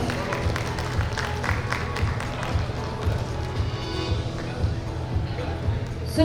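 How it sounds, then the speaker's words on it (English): An awards ceremony audience applauds the awardees at the 23rd EduLeaders Awards, a steady, dense roar of many clapping hands that holds throughout. "Can you please have a huge round of applause for all the awardees?"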